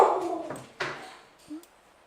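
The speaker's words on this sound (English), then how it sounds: "Excuse the dog in the background." A dog in the background gives a few short whimpers and yips, faint and off to the side during a virtual bike race broadcast.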